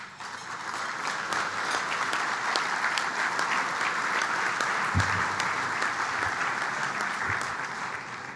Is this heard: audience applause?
yes